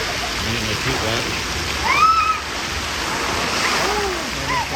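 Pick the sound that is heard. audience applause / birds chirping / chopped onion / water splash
water splash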